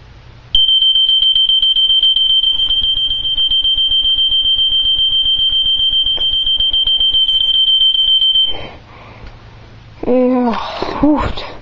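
A Gentex fire alarm sounds during a test, a loud piercing continuous tone with a rapid pulsing undertone that runs for about eight seconds, then stops, followed by a brief sneeze-like burst and a bit of voice.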